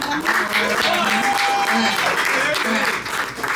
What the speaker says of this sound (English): clap it up if you're a born and raised Boston sports fan